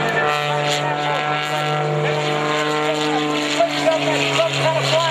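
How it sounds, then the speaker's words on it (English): Skip Stewart's aerobatic airshow airplane flies low over the show line with a loud, sustained propeller drone and engine hum, steady for several seconds. "Bringing the airplane right back down onto the hard deck."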